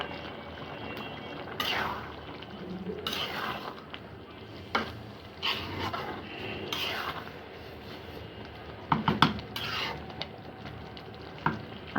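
A fish head and rice dish is stirred in a pot after the lid comes off, with intermittent scraping strokes and soft sizzling, a few sharper clinks near the end, all close and moderately quiet with no voices.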